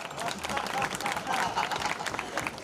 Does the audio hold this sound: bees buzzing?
no